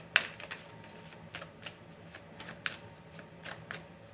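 Tarot cards being shuffled and drawn, soft papery riffles and light slaps at a close, quiet level, no talking.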